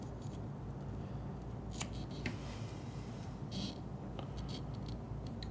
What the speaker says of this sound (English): take this, scissors, a little trim.